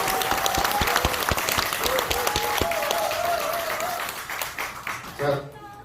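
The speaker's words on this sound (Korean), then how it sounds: "우리 강준기 기자님의 이 건투와 건강을 위해서 크게 한 박수 치면서" An audience claps loudly and steadily for a reporter at a talk event, with a voice carrying over the applause before it thins out and stops near the end.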